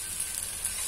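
Green tomato chutney frying in oil in a pan over a small gas flame, a faint, steady hiss of sizzling with a couple of slightly sharper crackles.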